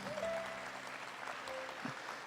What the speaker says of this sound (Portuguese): Dá uma salva de palmas para o Messias.